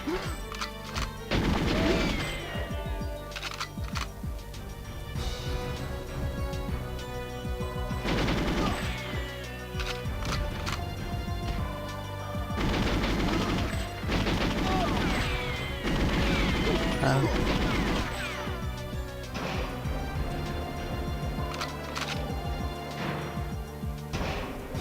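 Repeated gunfire and impact crashes from the GoldenEye 007 Nintendo 64 game in the Water Caverns level, loud bursts recurring every few seconds over dense game music throughout.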